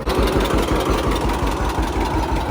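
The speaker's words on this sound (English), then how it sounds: "Getting the tractor put in the barn." A 1957 John Deere 720 antique tractor idles near a barn, its engine thumping in a steady, loud, close rhythm of low pulses throughout, with nobody speaking.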